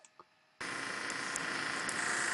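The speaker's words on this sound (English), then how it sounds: "That's the sound of like a projector, an old school projector or camera or something." An old-school film projector sound effect kicks in abruptly after a brief quiet opening and then runs steadily as a dense, continuous mechanical whir with a fast clatter. It is fairly loud, with no talking.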